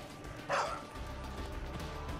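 A dog in the video game Far Cry 5 gives a short bark burst, followed by quieter game ambience and a sharp sound at the very end, moderately faint overall.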